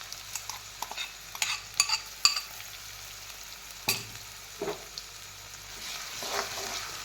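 Chillies and onions fry in a pan for a homestyle paneer curry. A close, steady sizzle plays under scattered sharp clinks and scrapes of a spatula stirring against the pan.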